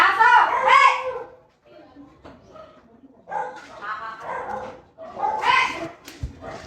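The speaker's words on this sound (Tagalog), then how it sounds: "Ay, aso!" A dog gives a few sharp barks and yips at close range, mixed in with people talking nearby.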